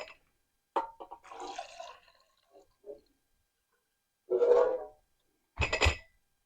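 Melted palm wax poured into candle jars, with a few short liquid pouring bursts separated by gaps, the longer pours close and fairly quiet.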